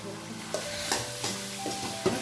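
Grated pumpkin is stirred in hot ghee for a sweet pumpkin halwa, a steady sizzle close by with several distinct spoon scrapes and knocks against the pan, and no talking.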